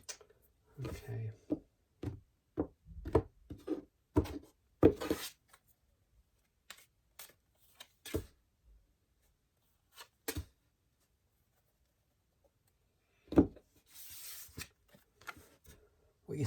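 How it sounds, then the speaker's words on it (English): Tarot cards being shuffled by hand in short bursts of riffling and slapping, close and clear, with pauses of silence between bursts and a quiet voice speaking at times. "One more card, one more shuffle."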